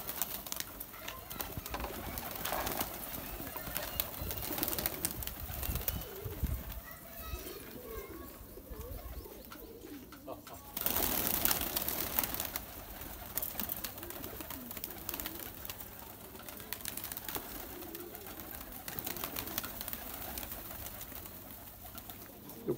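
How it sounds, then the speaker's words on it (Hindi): Pigeons coo in low, rolling murmurs throughout, a flock of pet pigeons close by, with people talking over them and louder clattering in the middle. "बहुत ही बेहतरीन कबूतर हैं इनके पास"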